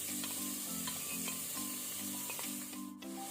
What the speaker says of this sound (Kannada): ಈಗ ನಾವು ಈರುಳ್ಳಿಯನ್ನು ಒಳ್ಳೆ ಫ್ರೈ ಮಾಡುವ, ಕಲರ್ ಚೇಂಜ್ ಆಗೋ ತನಕ.